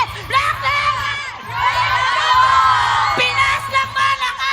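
A large crowd in an esports arena at a mobile game grand final cheers and shouts continuously, with loud whoops and higher children's-like yells over a steady rhythmic thump.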